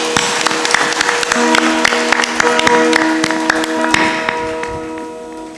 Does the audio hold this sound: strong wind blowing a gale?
no